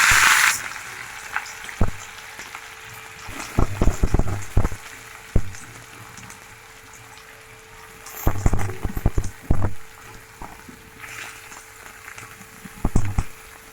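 Onion and four green chillies frying in coconut oil in a pan give a steady sizzle, broken by occasional sharp clinks and scrapes of a spoon against the pan, with no talking.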